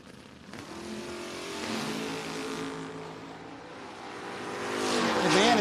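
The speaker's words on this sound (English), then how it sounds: "Coming up against Brent Miles out of Honeybrook, Pennsylvania. 2001 Chevy S10" A 2001 Chevy S10 drag racing down the strip at a No-Box 660 Shootout, its engine rising and revving louder as it accelerates past at moderate distance, with faint crowd and announcer noise behind.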